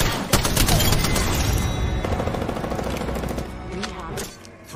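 Rapid gunfire bursts in the video game Apex Legends, loud and sustained, with dense overlapping shots and a faint game voice underneath.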